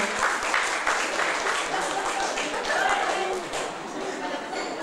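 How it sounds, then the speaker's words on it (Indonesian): Wedding guests applauding at a church ceremony and reception, a dense, steady round of clapping from a nearby crowd with chatter underneath, tapering slightly near the end. "3, tepuk tangan Pak Hadirin."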